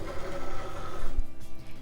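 Cricut cutting machine drawing a light grip mat loaded with vinyl, a steady close mechanical whir with a brief low thump midway.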